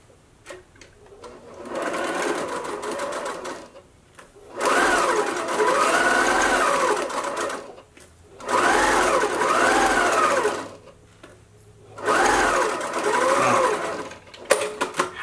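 A sewing machine edge-stitching a see-through fabric face mask, running in four loud bursts of rapid mechanical whirring separated by short pauses, with no talking.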